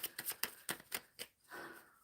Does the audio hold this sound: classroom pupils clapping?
no